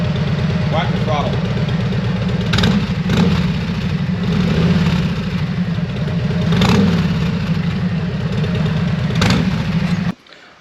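A Harley motorcycle with its current slip-on mufflers idles with a steady low rumble, swelling in a few throttle blips before cutting off abruptly at the end.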